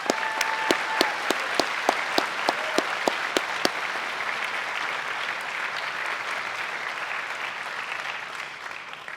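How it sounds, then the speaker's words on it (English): Sustained applause from a graduation ceremony audience honoring faculty and staff, dense and steady throughout, with a few sharp nearby claps standing out early on before the crowd's clapping continues alone. "How about a round of applause for MMA's faculty and staff on a job well done?"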